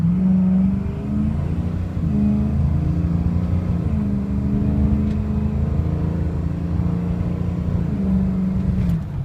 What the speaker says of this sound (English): let you listen to it run. It's got a cool exhaust sound to it.